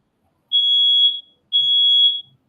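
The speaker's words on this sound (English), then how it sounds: "That alarm system is smoke detector" Smoke detector alarm sounding two loud, shrill electronic beeps, each about three-quarters of a second long with a pause between, alone in an otherwise silent room.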